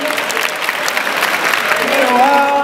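An audience at an anime convention prize ceremony applauds a prize winner, a burst of close, steady clapping that swells slightly toward the end.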